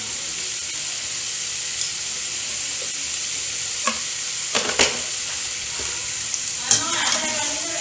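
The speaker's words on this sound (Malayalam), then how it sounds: "ഇനി നമ്മൾ ബീൻസ് ഇടാണ്. ഇനി നമ്മൾ ഇതൊന്ന് ഇളക്കി കൊടുക്കുകയാണ്" Beans frying in a pan with a steady sizzle, stirred in a few short scraping bursts that stand out clearly above the constant hiss, with no voices.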